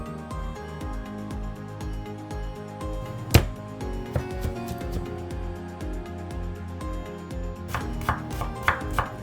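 Knife chopping garlic and onion on a board while cooking, a steady run of close, rhythmic cuts with one sharper knock near the middle and quicker bursts toward the end.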